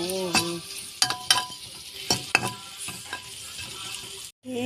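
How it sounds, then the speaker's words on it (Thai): Sliced pork belly sizzles and crackles in a hot pan while a utensil scrapes and clatters against the metal several times as it is stir-fried with salt. "เราก็มาคั่วกันค่ะทุกคน"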